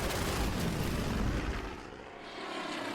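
A WW2 torpedo plane in a Pacific naval strategy game drones past with a steady, loud propeller-engine roar that fills the whole stretch and eases slightly midway.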